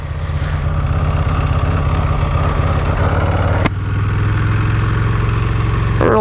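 A 2023 Buell Hammerhead 1190 motorcycle engine idles loud and close with a steady throbbing rumble as it rolls onto a track pit lane, briefly interrupted by a clunk before the beat continues.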